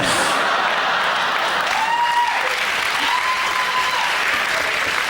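A TV comedy panel show studio audience claps steadily and loudly throughout, a dense even wash of applause with faint cheering mixed in.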